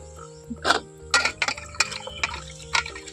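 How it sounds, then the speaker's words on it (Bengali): Firm tomatoes being washed in water: scattered splashes, drips and light knocks of fruit against each other and the bowl, a handful of separate close bursts over a quiet background. "আর এইগুলো এখন জলে খুব ভালো করেই পরিষ্কার করে নেব"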